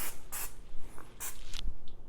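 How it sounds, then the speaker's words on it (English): Several short bursts of an aerosol can spray oil onto pretzel bun dough, crisp close hisses separated by brief pauses and light handling noises. "going to spray it a little bit"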